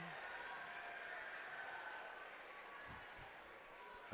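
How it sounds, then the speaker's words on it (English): A high school basketball crowd in a gym gives a steady round of applause as a player leaves the game, faint and distant, with the commentator's voice over it. "Amarion Adams gets a nice round of applause"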